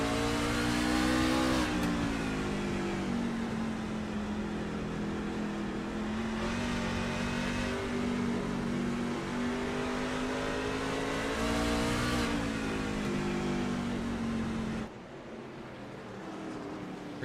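Racing trucks roar around the Charlotte Roval road course in a video game, a sustained loud engine drone with shifting pitch as they brake and accelerate through corners, dropping off sharply near the end.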